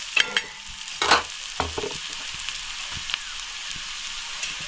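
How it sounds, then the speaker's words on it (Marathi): Onion sautés in a little oil in a village kitchen in the Konkan, a bright, crackling sizzle broken by several close spatula scrapes and clatters against the pan. "कांदा परतून घेते आता थोडा अच्छा जास्त परतून नाही घ्यायचं"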